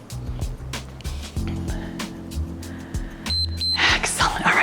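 A short high electronic beep from a workout interval timer sounds near the end, over steady background hum and a voice speaking.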